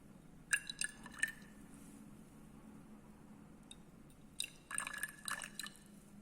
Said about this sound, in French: je prends ma solution, je verse 3 ml